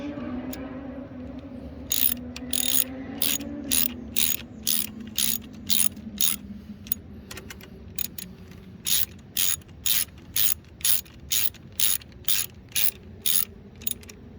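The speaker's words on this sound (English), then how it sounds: "this is a 10mm head screw, so you need a 10mm socket wrench." A 10mm socket wrench ratchets seat screws on a seat structure, giving about two dozen crisp, evenly spaced clicking bursts in quick rhythm, close and clear over a quiet background hum.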